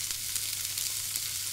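Food fries in a pan with a steady, close crackling sizzle and dense, continuous bright spatter throughout, with no voices.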